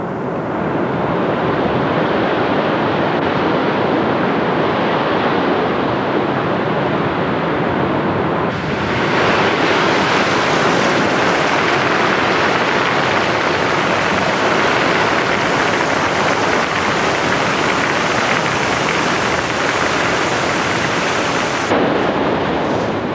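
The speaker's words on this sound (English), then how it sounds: "The volcano of Kilauea pours lava into the sea" Kilauea volcano's lava pouring into the sea, heard as loud, continuous crashing surf and roaring broadband wash, swelling stronger partway through with no voices.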